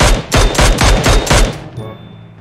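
Rapid automatic gunfire from the mobile shooter game PUBG Mobile: about six loud, close bursts in quick rhythm, then a short ringing tail with no talk over it.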